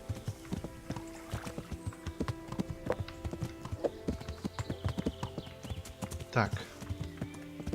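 Horse hooves clip-clop in a steady, close rhythm with a brief neigh near the end, set in the medieval world of Kingdom Come: Deliverance, while someone talks over it.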